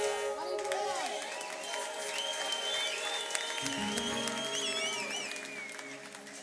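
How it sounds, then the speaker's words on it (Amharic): A worship congregation ululates in high, wavering trills and shouts over a sustained musical backdrop, with clapping mixed into the loud, continuous crowd sound. "ከፍ ያለ ጩኸት እልልታ ጭብጨባ ለጌታ"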